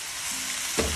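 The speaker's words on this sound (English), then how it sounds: "We're gonna add our grated tomatoes. And just mixing that to make sure they are" Grated tomatoes hit hot olive oil with a steady, close sizzle, then a spoon stirs through the pan in two short scraping bursts near the end.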